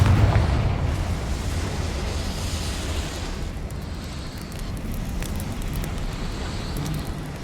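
Explosive Confringo fire spell in Hogwarts Legacy: a thumping burst at the start, then a long rumbling, crackling fiery roar that slowly thins out at moderate loudness.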